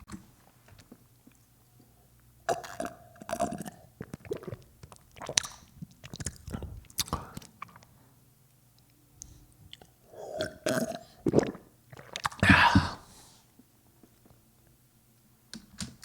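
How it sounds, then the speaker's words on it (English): Close, wet swallowing and gulping of water comes in clusters with quiet gaps, ending in a loud gulp or burp near the end. "how about the sound of me gulping down water?"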